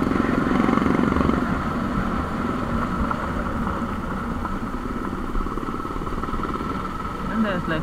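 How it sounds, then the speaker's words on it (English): A motorcycle rides off-road near Dandiganahalli Dam, its engine a steady droning hum under heavy wind noise, with speech mixed in. "We'll actually rip the bike here."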